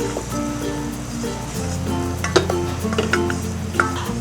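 A flour and butter roux is stirred steadily in a pan, with a soft continuous sizzle and scraping, close and moderately loud, with a low background hum and a few brief sharper utensil knocks.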